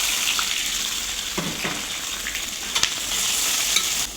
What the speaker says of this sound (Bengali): পেঁয়াজগুলো ভাজা ভাজা হবে,